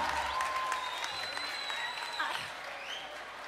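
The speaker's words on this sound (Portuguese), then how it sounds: "Cadê as palmas pra ela," Audience clapping at a live bailão music show, a steady wash of applause that holds for a few seconds and tapers slightly, with a voice and faint tonal sounds above it.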